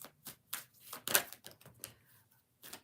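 A deck of tarot cards is shuffled by hand in a series of quick, crisp riffling bursts, with irregular short pauses, close and fairly quiet.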